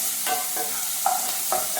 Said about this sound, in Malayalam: അതിനൊപ്പം എടുത്ത് വെച്ച് കരിവേപ്പിൻ്റെ ഇല, പച്ചമുളക് ഇങ്ങനെ ഇട്ട് കൊടുത്തിട്ട്